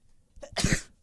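A single short sneeze bursts out nearby during a varsity high school basketball game broadcast, a quick intake followed by one sharp, breathy explosive blast lasting under half a second.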